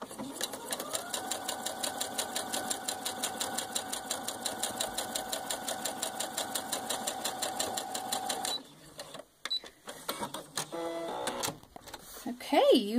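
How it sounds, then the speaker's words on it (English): Sewing machine stitching a puff quilt block, running fast and steady in a continuous whir for about eight seconds, then stopping as the fabric is handled with brief rustles and a short voice at the end. "Now we're ready to sew."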